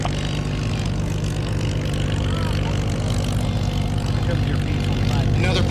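A Swiss Pilatus P-2 propeller aircraft passes at an airshow, a steady loud engine drone with a broad wash of crowd and wind noise throughout.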